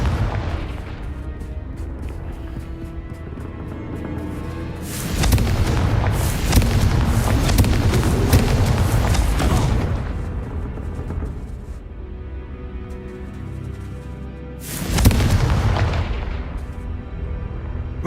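Confringo spell blasts in the video game Hogwarts Legacy: two loud, booming explosions with long rumbling tails a few seconds apart, over a steady low game ambience.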